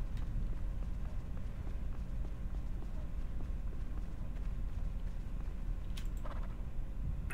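Horse hooves in a video game clip-clop in a steady, fairly quiet rhythm, with a couple of brighter knocks near the end and no talking.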